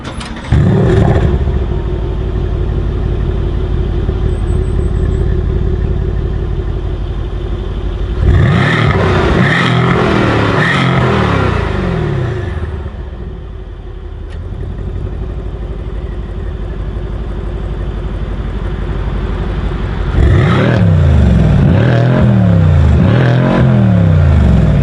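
A 2016 Mercedes-AMG C63 S engine idles with a deep rumble, then revs hard in bursts, the roar rising and falling; a second set of revs follows in sport mode.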